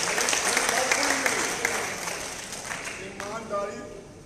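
Audience applause at a Hindu community family gathering, a dense wash of clapping from a large crowd that fades gradually over a few seconds, with a voice speaking over the tail end.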